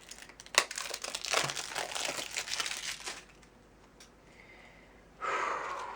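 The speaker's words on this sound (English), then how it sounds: "I'm going to get the styrofoam off" Styrofoam packaging is pulled off a Mandalorian playing card deck, making close crinkling and crunching rubs for about three seconds, then a quiet pause before another short burst of scraping near the end.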